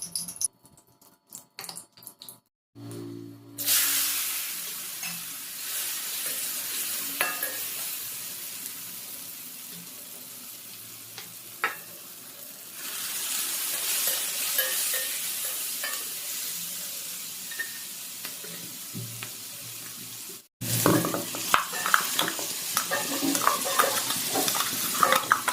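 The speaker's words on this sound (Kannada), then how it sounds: "ಬಾಣಲೆಗೆ ಎಣ್ಣೆ ಹಾಕ್ಕೊಳ್ತಿದ್ದೀನಿ, ಹಾಗೆ ಸ್ವಲ್ಪ ಎಣ್ಣೆ ಕಾದ ನಂತರ ಆ ಗೋಡಂಬಿನ ಹಾಕ್ಕೊಂಡು ರೋಸ್ಟ್ ಮಾಡ್ಕೊಳ್ತಿದ್ದೀನಿ" Cashews roast in hot oil in a pan, a continuous loud sizzle with scraping stirring strokes throughout, rising at times and briefly cutting out before resuming.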